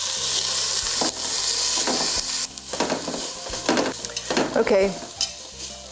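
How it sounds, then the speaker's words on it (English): Sliced onions sauté in a hot pan with a loud, steady sizzle broken by the scrape of a stirring spoon, and one brief spoken word. "We're going to go ahead and saute these for 5 minutes until the"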